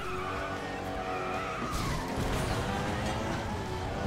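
A race car skids with a sustained tire squeal over a loud engine roar in the FlatOut Ultimate Carnage racing game, a dense and continuous stretch of sound.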